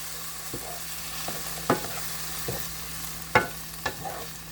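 Savory beans sizzle softly in a pan after a sprinkle of water while a spoon scrapes and stirs them in a few separate strokes, with a faint steady hum underneath and no voices.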